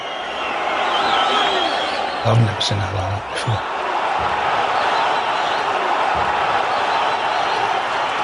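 Large boxing arena crowd of about 12,000 British fans roaring as the champion makes his ring walk, a dense continuous wash of cheering with a few sharp thumps and a voice speaking briefly over it.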